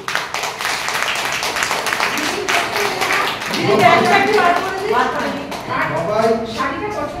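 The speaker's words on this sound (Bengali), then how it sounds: "জোরে হাততালি।" Family members at a 61st wedding anniversary celebration clap steadily throughout, the applause running under lively overlapping talk and voices close by.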